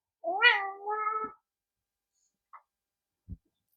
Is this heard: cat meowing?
yes